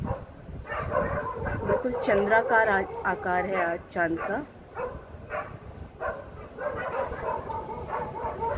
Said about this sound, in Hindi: बाहर कुत्ते भौंक रहे हैं